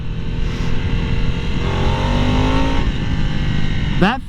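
Harley-Davidson Nightster motorcycle engine pulling under acceleration on a test ride, a loud steady drone rising in pitch from nearby, bogging a little, with a rider's voice over it.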